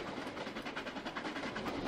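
An LMS Coronation Class steam locomotive, Duchess of Sutherland, rolls along at about 35 mph in Trainz, a steady rushing rumble with faint rhythmic wheel clatter and no voices.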